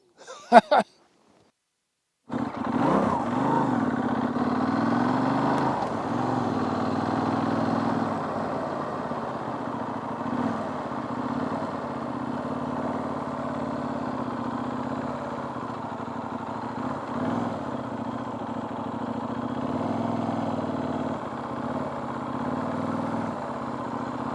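A Benelli Leoncino 800 Trail motorcycle engine runs steadily at low speed during slow manoeuvring, a continuous mid-pitched drone that follows a brief knock and a short silence.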